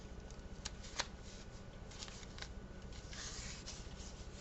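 Satin ribbon folded back and forth by hand into a ribbon rose, giving soft, continuous rustling and crinkling with a few sharper crisp snaps, close and quiet with no talking.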